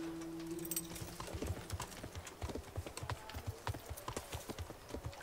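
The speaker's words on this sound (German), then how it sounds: "Da kommt mein Pferd." Steady clip-clop of horse hooves in the game Kingdom Come: Deliverance, regular and fairly close, over a low background hum with a faint whinny early on.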